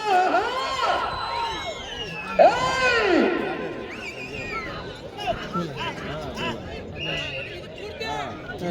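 A large outdoor crowd shouts and cheers at a bull race during a temple festival, loud overlapping voices swelling in waves with sharp yells over a constant babble.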